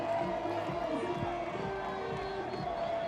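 Football crowd at the Morocco vs Mozambique third-place match of the Beach Soccer AFCON 2022, a steady, dense roar of cheering and voices from the stands, with commentary over it.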